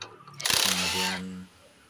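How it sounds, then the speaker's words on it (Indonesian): A wrench loosens an 8 mm bolt on the clutch cover of a Yamaha Vixion motorcycle: a single close, mechanical ratcheting burst of about one second, then quiet. "baut 8 di sekeliling bak kita lepaskan menggunakan kunci 8"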